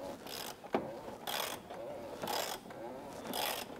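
A ratchet wrench tightens the oil drain plug on a Citroën Berlingo 1.6 HDi DV6 engine during an oil change, giving four bursts of clicking ratchet strokes in a regular rhythm, close and fairly quiet.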